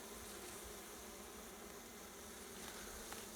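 Bees swarm and buzz around a log beehive in a Ukrainian forest apiary, a steady, dense hum that stays faint and unbroken throughout with no voices.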